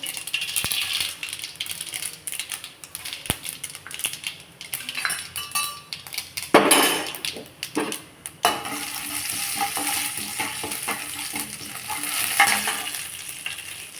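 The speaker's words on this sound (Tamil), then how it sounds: "கடுகு சேர்த்துக்கலாம்." Mustard seeds crackle and sizzle in hot oil for a tempering for a curd pachadi, with light spoon-and-pan clinks and scattered popping over a soft frying hiss, fairly quiet and without speech.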